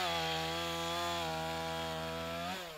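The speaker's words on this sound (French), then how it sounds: "On a des scies mécaniques," Chainsaws cut through hard snow and ice blocks for winter sculptures, with one loud, close, steady engine whine held for nearly three seconds before it dips slightly at the end.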